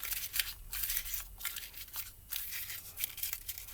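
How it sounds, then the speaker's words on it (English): Sheet of paper crumpled by hand over and over, a dense, continuous crinkling and crackling with bursts of rustle, close and fairly loud, no talking. "Grab a piece of paper and crumple it up like a whole bunch."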